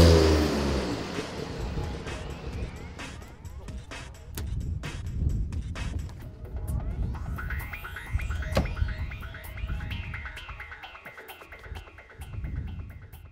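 A Porsche 962 Le Mans race car accelerates hard, its engine rising through the revs with sharp gear changes and a varying, fairly distant roar.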